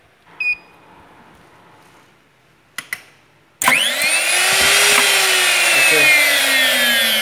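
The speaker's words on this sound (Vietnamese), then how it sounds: "Chuyển về chế độ 1 là khoan một lỗ." A minicam multi-function drilling machine bores a hole in wood: a few beeps and clicks as the mode is set, then a loud, sustained whining motor with a shifting pitch as the bit cuts, running for several seconds alone.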